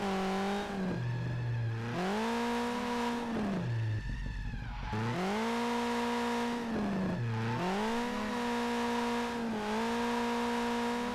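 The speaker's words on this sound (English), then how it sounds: "This engine sound is just so generic for your typical race mobile" Race car engine in the drift video game High Octane Drift, loud and close, revving up and dropping repeatedly in steady waves with gear-like pitch swoops and a brief tire squeal, no talking.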